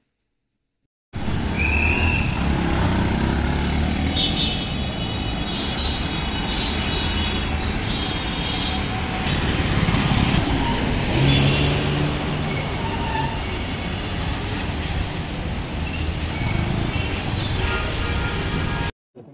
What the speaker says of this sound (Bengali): এখন আমরা বাইকটি টেস্ট ড্রাইভে যাব।